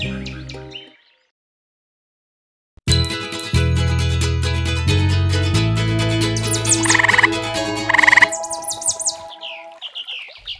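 Cartoon-style frog croaks and chirpy calls in a children's story about a frog by a pond, heard as a loud, busy burst of tones, chirps and jingles after a brief silence.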